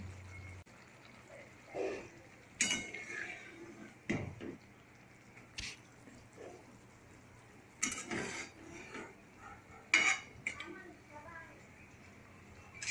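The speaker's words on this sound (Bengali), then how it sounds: "এবার এটাকে আমি একটা পাত্রে তুলে নেব।" Tel koi fish curry being spooned from a pan into a serving bowl, with scattered clinks of utensil on metal and soft wet scrapes, a few louder knocks, and quiet voice in the background.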